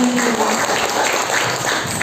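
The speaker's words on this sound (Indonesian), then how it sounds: "Beri aplaus untuk Bapak Rektor" Audience applause for the rector at a management seminar, a dense, loud, steady clapping from a large crowd throughout.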